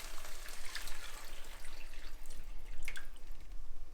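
Blended tomato mixed with water poured into a pot, a steady liquid stream with dripping and splashing throughout, close and moderately loud with no talking.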